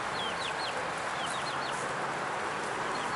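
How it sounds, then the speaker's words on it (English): Free-roaming chickens with a rooster at a roadside, repeated rising clucks and calls over a steady outdoor rumble of ambient noise, fairly close. "Love the way these chickens just wander freely along the sides of the road."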